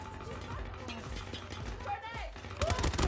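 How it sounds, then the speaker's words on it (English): Metallic clicks and ratcheting of a Mythic M13 rifle magazine reload in a ranked Hardpoint match of Call of Duty Mobile, set among busy game effects with bursts of gunfire toward the end and a voice in the background. "Changing mag."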